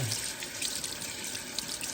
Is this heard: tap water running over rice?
yes